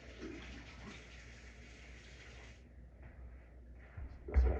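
Lime rinsed under running tap water, a steady close gush that thins out partway through, ending with a brief louder splash or knock.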